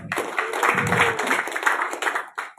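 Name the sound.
audience applause for the police chief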